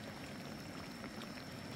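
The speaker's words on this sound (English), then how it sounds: "Yeah, I pour it over the onion." Sauce is poured over onion for a roast, giving a faint, steady wet hiss and patter, continuous and low in level with no voices.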